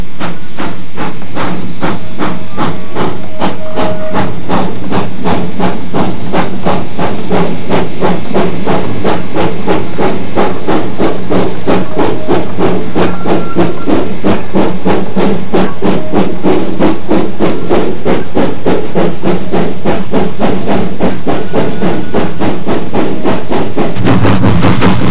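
Colorado and Southern narrow gauge steam locomotive Engine 69 works as a helper on the west side of Kenosha Pass, loud rapid chuffing exhaust beating steadily with hiss, close and continuous for the whole stretch.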